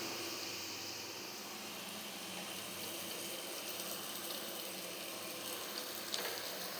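Small pieces of leftover idli frying in a pan with turmeric and sautéed onions for idli upma, giving a steady soft sizzle and faint crackle throughout, fairly quiet and unbroken, with no talking.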